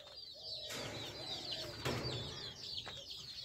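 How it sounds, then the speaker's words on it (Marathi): Hens and chicks in a mini poultry farm, with soft clucking and bird chatter running steadily under a noisy background, broken by a couple of sharp knocks or flaps. "मी आतमध्ये 2 कोंबड्या पण सोडलेले की ज्यांना पिल्ले येतं"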